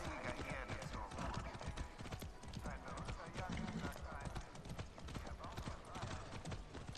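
Horse hooves clip-clop steadily while riding in the video game Far Cry 6, a dense, continuous galloping rhythm mixed with other game sounds at moderate loudness.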